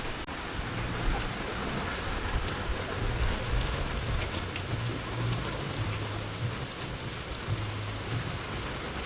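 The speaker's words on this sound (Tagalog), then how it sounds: "Lakas ng ulan." Heavy rain pours steadily onto a rice field during a storm, a dense, loud, continuous hiss of drops with low rumbling underneath and no voices.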